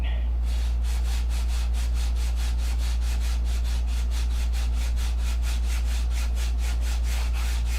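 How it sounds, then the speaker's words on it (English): Steady rhythmic hand sanding of foam wing ribs, quick even back-and-forth scraping strokes close by, over a constant low electrical hum. "You'll know when to stop sanding."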